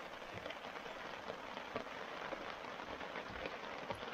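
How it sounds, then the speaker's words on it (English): Steady rain falls at a lakeside campsite on Middle Saranac Lake in the Adirondacks, a continuous soft hiss with scattered drop taps, heard alone with no voices. "Back to raining again."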